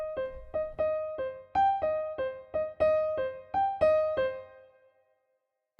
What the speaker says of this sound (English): There's a mellotron-like sound